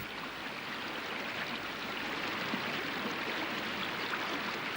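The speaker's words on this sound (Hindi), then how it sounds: "ये परम पावनी सर्व पापनाशिनी गंगा है" The Ganga river flowing steadily, a broad, continuous rush of moving water like a stream, heard close and even throughout with no talking.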